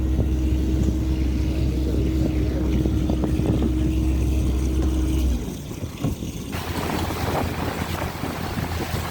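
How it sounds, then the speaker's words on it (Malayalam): A small motorboat carries five people across the Thenmala dam reservoir in a forested eco-tourism area. Its steady, loud engine drone mixes with wind noise, then cuts out about halfway, leaving rougher wind and water sounds. "നമ്മൾ 5 പേരെ ഉള്ളതുകൊണ്ട് ചെറിയ ബോട്ടാണ് നമ്മൾ പോണത്."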